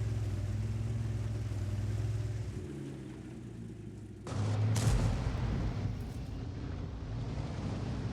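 A Bat.-Châtillon 155 55 artillery tank in World of Tanks fires a single heavy, booming shot about halfway through, breaking over a low engine rumble that continues before and after.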